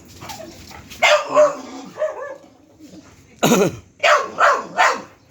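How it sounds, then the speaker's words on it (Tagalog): A dog barks sharply several times up close at a kitten, first a pair of barks and then a quick run of three. "Ayan ang tahol oh."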